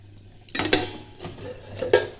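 A metal lid comes off a cooking pot of drumstick and potato posto: a clanking lift around the middle, then a second metallic clink, close and fairly loud over a low steady hum.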